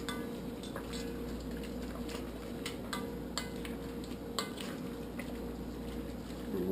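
A spoon stirs sautéed summer squash and toasted almonds in a pan, giving faint, scattered clinks and scrapes of utensil against metal over a low, steady background.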